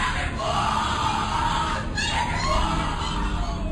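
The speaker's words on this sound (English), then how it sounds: "What you're hearing is the first recording ever made of the Skull and Bones initiation ceremony." Screams and shouting from a Skull and Bones initiation ceremony, senior students putting new members through the ritual, a loud, dense, continuous din of many raised voices.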